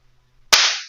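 A single sharp pop of a small toy firecracker, loud and close, with a crackling hiss that fades over half a second after near silence.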